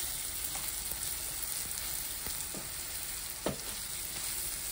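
Okra frying in a pan with cumin seeds makes a soft, continuous sizzle. Intermittent stirring scrapes run through it, with one sharper utensil knock partway through, and the sound stays faint and close without speech.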